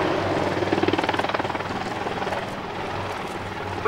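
An Army Air Corps Apache AH Mk.1 attack helicopter hovering nearby at the RAF Cosford Airshow 2014, its rotor thudding in a steady rapid pulse with a loud broadband engine roar.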